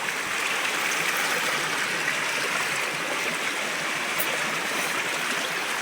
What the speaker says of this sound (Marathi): भरपूर असं पाणी आलेलं आहे